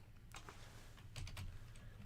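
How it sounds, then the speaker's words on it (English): Rapid, irregular clicks of typing on a computer keyboard, close and fairly quiet, with a low steady hum underneath and no talking. "I'm typing it into Google"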